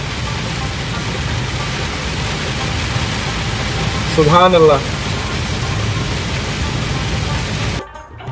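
Heavy rain pours down in a steady, loud roar; a voice briefly exclaims midway, and the downpour cuts off abruptly near the end.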